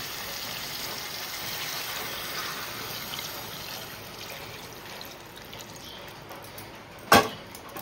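Water pours into a pan of crab curry as a steady hissing trickle that runs for several seconds and slowly eases off, followed by a brief sharp clink near the end.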